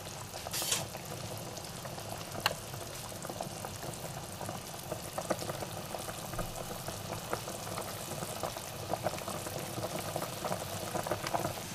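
A pot of bone soup boiling on the stove, a continuous soft bubbling and gurgling close by with a few brief clinks, and no voices.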